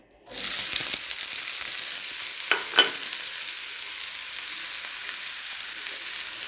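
Onion frying in a little oil in a pan starts suddenly as a loud, dense, continuous sizzle that holds steady throughout, with a couple of brief stirring clicks and no voices.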